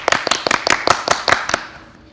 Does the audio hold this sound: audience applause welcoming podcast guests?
yes